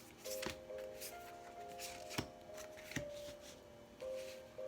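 A Muse Tarot deck being shuffled close up, with soft riffling and a few sharp card slaps over a faint steady background hum, no talking.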